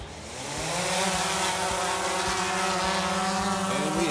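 A drone lifts off outdoors in snowy conditions, its motors and propellers rising into a loud, close, buzzing whine that climbs in pitch and then holds steady.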